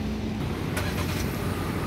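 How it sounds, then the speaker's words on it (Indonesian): A 2020 Kia Sonet engine, started remotely, running steadily nearby, a low rumbling idle with a brief rise in noise partway through. "Nah, suara mesin ini menyala ya."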